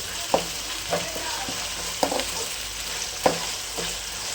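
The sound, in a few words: chicken gravy masala frying and being stirred in oil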